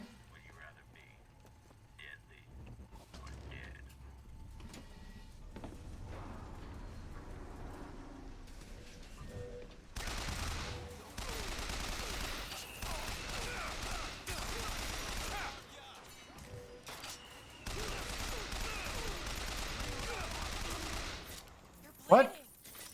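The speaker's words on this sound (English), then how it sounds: "I'm gonna have to use the machine gun" Machine-gun fire rattles in sustained bursts during a video game, quiet and distant at first, then loud, dense stretches broken by short gaps, with a sharp blast near the end.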